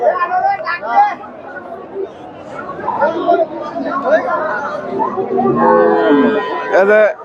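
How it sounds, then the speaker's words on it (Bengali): Friesian cross cows low repeatedly at a busy Bangladeshi cattle market, and the moos come through nearby chatter and crowd babble from people talking throughout. "এগুলা ফ্রিজিয়ান ক্রসের গাভী আছে"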